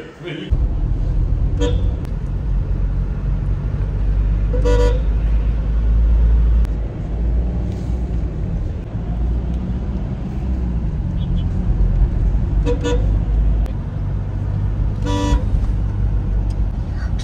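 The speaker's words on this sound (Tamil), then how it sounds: "அவ்வளோ கார் போய் இங்கே நிற்குது." Car horns honk in short, repeated toots amid steady road traffic and engine rumble near a temple car festival, with people talking under the busy street noise.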